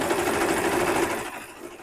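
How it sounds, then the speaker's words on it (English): An overlocker serges the raw edge of a trouser pocket bag in a steady, fast, close mechanical whir that runs for over a second, then cuts off and leaves quieter room sound. "let's just go ahead and overlock that edge."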